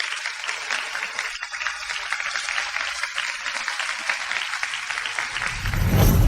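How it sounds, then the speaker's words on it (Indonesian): Applause from guests celebrating two newlywed couples at a wedding ceremony, a steady wash of clapping throughout that swells louder near the end. "Mari berikan tepuk tangan yang meriah untuk memberi selamat kepada dua pasangan pengantin yang menikah hari"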